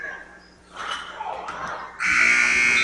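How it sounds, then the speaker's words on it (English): A harsh electronic basketball end-of-quarter buzzer blares loudly for about a second at the end, following a stretch of gym crowd noise. "But that was the buzzer, and the end of the first quarter"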